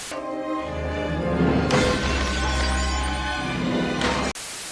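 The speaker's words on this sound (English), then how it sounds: "just smashing everything" Objects smashing and crashing during a temper tantrum in a Batman Returns film scene, a dense, loud, sustained din of breaking and clattering with music-like tones underneath, ending abruptly near the close.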